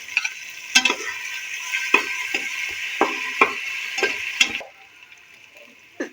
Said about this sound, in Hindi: लहसुन अदरक का पेस्ट जो है वो फ्राई हो चुका है।